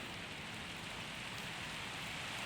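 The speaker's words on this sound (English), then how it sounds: "You can tell that it's raining on the roof." Rain falling on a roof heard from indoors in the Minecraft video game, a soft, steady patter and hiss with no talk.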